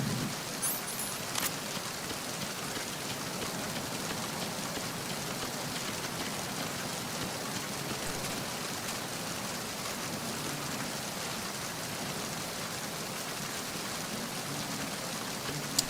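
Rain in the video game Metal Gear Solid 2 falls as an even, unbroken wash of hissing noise, constant in level throughout with no voices.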